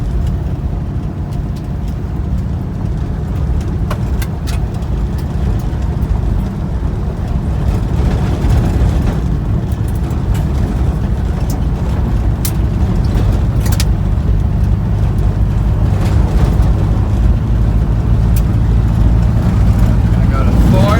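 An old project truck rolls downhill in third gear with a loud, steady engine drone and road rumble throughout, while someone talks over it.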